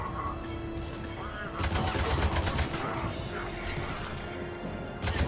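Dense, sustained gunfire in the Mass Effect video game, rapid overlapping shots and impacts that swell at times into heavier bursts, with a player's voice talking over the combat.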